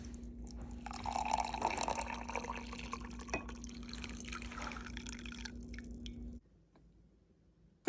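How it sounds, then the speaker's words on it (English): Hot 160-degree water poured over white tea, a soft continuous trickling and splashing into a cup for several seconds, then abruptly cut to near silence, under a faint steady hum. "And this is that same water going in for the white tea now."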